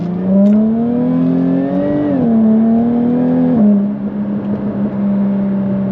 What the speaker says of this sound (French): C'est vraiment un bruit magnifique ce V6 compresseur.